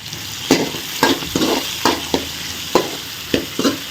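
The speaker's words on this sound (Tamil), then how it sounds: "வெங்காயம் பச்சை மிளகாய் பூண்டு போட்டு நல்லா வதக்குங்க" Onion, green chili and garlic sauté in hot oil in a pan, a loud close sizzle punctuated by a regular rhythm of stirring scrapes and taps roughly every half second, with no voice over it.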